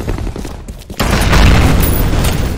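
A grenade detonating in the video game F.E.A.R. Combat, a sudden loud broadband boom that swells and rumbles on after a brief quieter lead-in.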